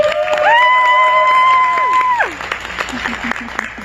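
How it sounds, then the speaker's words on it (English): Audience at a leadership event applauding and cheering, loud and close, with a rising whoop-like tone and shouts over the clapping that thins out toward the end. "a round of applause for Emily."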